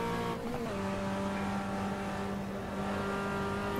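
A Volkswagen Gol Quadrado touring car drives a track in the Automobilista racing game, its engine droning steadily with a pitch shift as it changes gear, loud and continuous with no talking.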